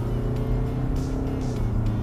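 A car driven in sport mode gives a steady, loud engine drone with constant road and cabin noise throughout, close and unbroken.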